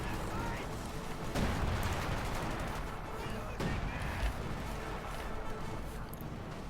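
An artillery barrage in Company of Heroes 2 rumbles in dense, continuous booms with a couple of sharper blasts standing out, while a voice speaks over the battle.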